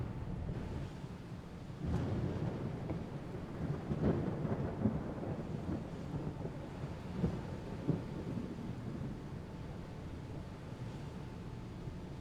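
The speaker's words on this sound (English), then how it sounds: "a storm came in." A storm at sea rolls in around a naval vessel in the combat game Sea Power, with low, rumbling thunder over a steady wash of rain and wind, fairly faint and distant throughout.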